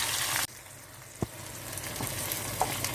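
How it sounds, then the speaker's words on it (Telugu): Green chillies, slit so they do not burst, fry in oil with cumin and other tempering spices. A loud sizzle cuts to a quieter, steady crackle with a few scattered pops. "పచ్చిమిరపకాయలు కూడా వేగాలి."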